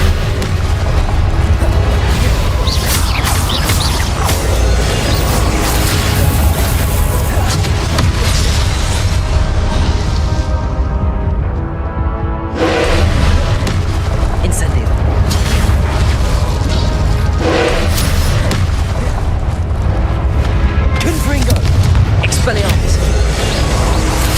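Repeated booming Confringo spell explosions in Hogwarts Legacy, loud dense blasts layered over other combat effects, with a voice shouting spell names throughout.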